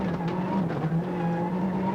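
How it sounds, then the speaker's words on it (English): A rally car engine drones loudly and close as the car slides on a stage into straw bales, a steady gritty roar with faint tyre scrabble throughout. "David Llewellyn had a bad moment here, sliding into straw bales."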